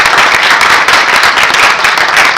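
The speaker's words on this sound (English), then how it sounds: "So you deserve a round of applause" Dense, loud applause from a crowd at a Konica Minolta corporate event, steady clapping throughout with no voices.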